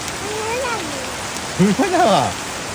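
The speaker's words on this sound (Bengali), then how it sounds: "তুমি বৃষ্টিতে ভিজছো" Rain pours down in a steady, even hiss throughout, with a person speaking over it in the foreground.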